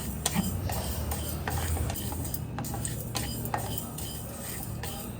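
A tablespoon of fenugreek seeds frying on a low flame in a pan with mustard seeds, stirred with a metal spoon that clinks and scrapes against the pan over a steady sizzle, close and fairly loud.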